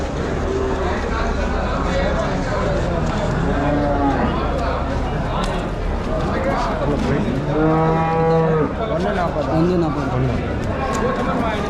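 Cattle low repeatedly at a livestock market in Vaniyambadi, several deep drawn-out moos rising over a busy crowd murmur and steady background noise, with people talking throughout.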